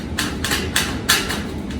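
Screws driven into metal wall studs, a few short bright buzzing bursts from a close power driver in quick succession, each biting into the metal, with no talking.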